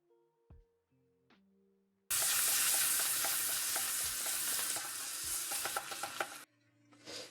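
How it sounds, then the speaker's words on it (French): Oysters sautéing in a hot pan, a loud close sizzle that bursts in suddenly and crackles steadily for about four seconds before cutting off, with a few clinks before and after. "Et on va faire revenir les huîtres."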